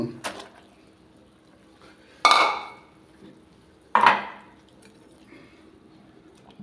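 A pot lid clanks open and pork is dropped into boiling water, giving two sharp metallic clatters with splashy, wet tails a couple of seconds apart, plus a softer knock at the start.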